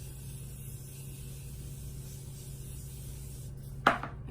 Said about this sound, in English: I'm gonna spray my face too also